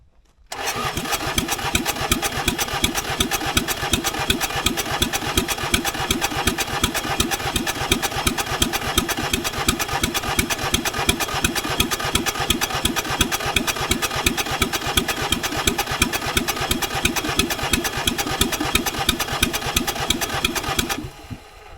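A small auction mini skid loader's engine runs close and loud for about twenty seconds with a fast, even chugging pulse, then cuts off abruptly.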